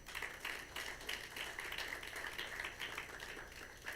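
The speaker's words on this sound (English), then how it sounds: "they deserve a round of applause" Audience applause at an African Climate Summit 2023 session: steady, faint clapping from a crowd, continuous and fairly even throughout, with no voices standing out.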